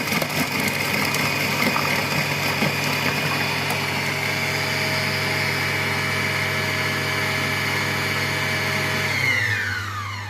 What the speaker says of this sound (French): Je vais mettre donc le programme haché et c'est parti.